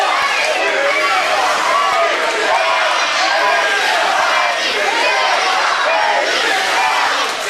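A wrestling arena crowd roars loudly and continuously, a dense, livid wall of shouting and yelling from many voices that fills the space from start to finish.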